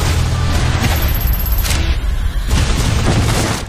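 Gunfire erupts in a movie action scene, a dense barrage of booming shots and crashes that stays loud and nearly continuous from start to finish, with no talking heard.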